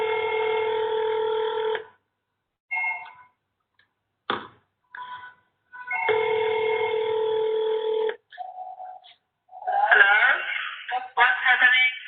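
A telephone rings through a ZYCOO X10 SIP paging gateway call, long steady electronic ring tones repeating with gaps, followed by short beeps and tones, and people talking near the end.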